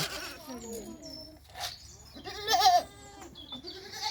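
A goat or lamb on a farm in France bleats several times, with wavering cries rising and falling close by, including one louder, longer bleat partway through against a quiet background.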